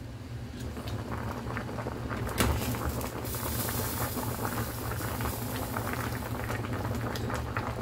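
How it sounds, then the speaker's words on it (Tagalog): Fish sinigang broth with santol boils vigorously over the pot rim with a constant bubbling, gurgling roar, close and steady throughout, with occasional louder pops. "Umaapaw yung sabaw niya, no? Kumukulo."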